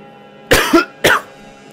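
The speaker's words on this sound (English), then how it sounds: "that'll just make me cough a bit" Two close, harsh coughs, the first a quick double hack and the second a single burst, with quiet room noise between them.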